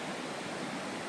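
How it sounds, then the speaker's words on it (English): A creek waterfall in the Gifford Pinchot area rushes over big slippery boulders: a steady, full, continuous roar of falling water, close and even throughout with no voices. "it's right there in the creek, but it's like big slippery boulders, and if you fall in that, dude, there's a waterfall right there"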